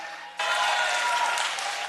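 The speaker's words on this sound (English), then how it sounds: "You gotta hold the applause," Applause from an audience at a city planning and land use committee meeting breaks out abruptly after a brief quiet moment, then holds as a dense, steady clatter of many hands clapping.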